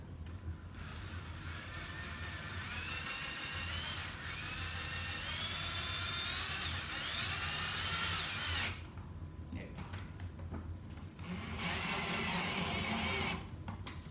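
A power driver whirs in bursts as a screw is driven into a keyboard case for a Casio Casiano MZ-X Turbo build, several long runs with short pauses between, close and fairly loud.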